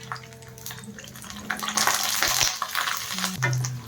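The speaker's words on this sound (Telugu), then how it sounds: "పల్లీలు బాగా ఫ్రై చేసుకున్న తర్వాత ఇందులోనే ధనియాలు కూడా వేసుకొని బాగా ఫ్రై చేసుకోవాలి." Peanuts and coriander seeds frying in hot oil in a pan, a close sizzle mixed with scraping stirring sounds that grows busier midway, with no voices.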